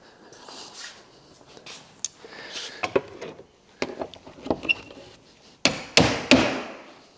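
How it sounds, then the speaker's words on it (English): Several sharp hammer taps ring out unevenly while parts are levered into place in a movers' storage vault, a few scattered early on, then three louder, close strikes near the end. "I like to use a hammer as leverage and pop them up into place"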